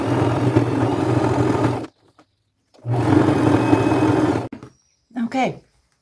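A sewing machine double-stitches a fringe flap bag in two close, loud bursts of rapid whirring, separated by a pause, ending with a brief voice.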